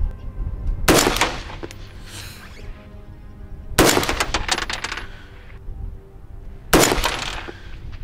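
An AR-15 rifle with a 12.5-inch barrel fires three sharp, loud shots about three seconds apart at a ranch range, each crack followed by a brief ringing decay and faint wind noise between.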